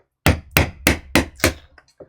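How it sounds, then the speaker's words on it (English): Five sharp hammer blows ring out one after another at a steady pace, each a crisp close strike with a short decay, followed by a few faint taps, during a Japanese printmaking session. "my voice was getting lost in the hammering"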